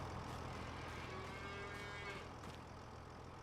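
Cattle moo faintly in a pasture and barn in Farming Simulator 25, with a couple of low drawn-out calls over a steady background hum.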